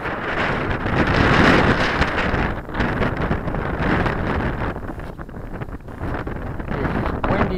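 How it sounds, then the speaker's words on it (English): Strong gusting wind batters the microphone aboard a sailboat on its first outing, a constant loud roaring rumble with surging buffets throughout, no clear voices. "It's windy as a son of a bitch."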